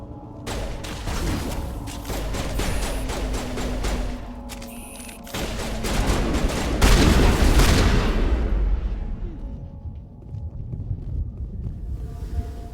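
Mass Effect Legendary Edition firefight with dense, sustained gunfire and booming impacts layered over a low rumble, loud and continuous throughout before easing slightly near the end.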